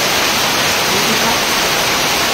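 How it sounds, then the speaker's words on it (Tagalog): Heavy typhoon rain pouring down in a dense, unbroken roar, loud and close throughout with no letup. "Ang lakas ng ulan."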